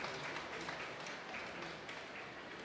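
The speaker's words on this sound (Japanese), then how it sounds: "大きな拍手が来ましたね" A sumo crowd at the May 2011 basho applauds steadily after Takanoyama clinches his winning record against Myogiryu, a soft, even patter of clapping heard from a distance.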